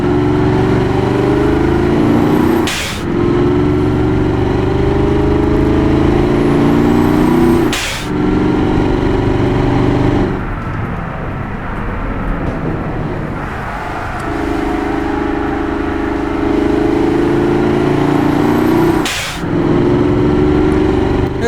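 Turbocharged heavy-duty truck engine in the Automation car company tycoon game, droning loudly at high RPM with a steady roar, broken by a few sharp gear-change drops and shifts in pitch.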